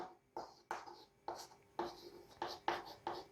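Chalk or marker strokes on a classroom board during a science lesson, a series of about eight short scratchy bursts in a steady rhythm, close and fairly faint, with no talking over them.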